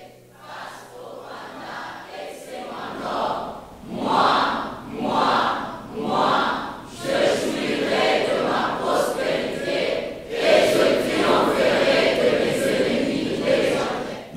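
A church congregation shouts a loud collective acclamation, rising in repeated surging waves of many voices that swell and fade, then hold as a sustained roar of the crowd.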